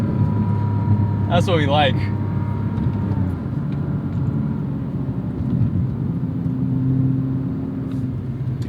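Porsche Cayman S 987 with its Metzger engine, revving as a steady low rumble through the whole stretch while someone talks over it.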